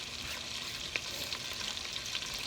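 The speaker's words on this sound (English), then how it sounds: "So I'm going to throw my onions in here." Onions frying in butter and bacon fat for corn chowder, a steady close crackling sizzle with light stirring taps throughout.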